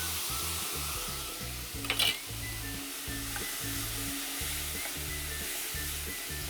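Doubanjiang chili bean paste frying with meat in a pan, a steady close sizzle with rhythmic stirring scrapes and a brief louder hiss partway through.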